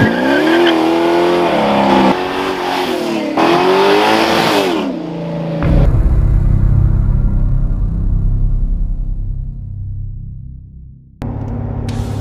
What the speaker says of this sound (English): my 1967 Acadian Canso Sport Deluxe